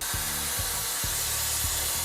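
Carb cleaner sprays onto a carburetor screen from a leaky carb, a loud continuous aerosol hiss close by with soft low thumps repeating underneath.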